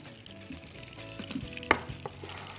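Celery, carrots and other vegetables sautéing with cleaned beef trotters in a pot for Egyptian trotter soup, a soft steady sizzle with light stirring and a sharp clink of a utensil, no talking.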